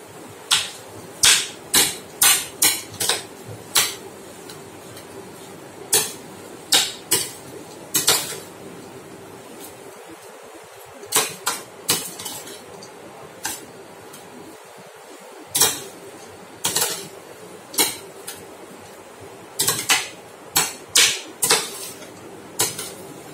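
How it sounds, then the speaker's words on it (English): Pan and utensil clatter as mashed potatoes are stirred into cooked onions for chickpea burgers, with repeated sharp metallic scrapes and clinks in an irregular rhythm, close and fairly loud, no talking. "Now I will add these mashed potatoes in my onions"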